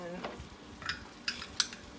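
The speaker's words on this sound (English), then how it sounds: "I've been stirring it up" A spoon works through beef empanada filling with olives in a pot, giving soft scraping and a few sharp metallic taps against the rim, close and fairly quiet.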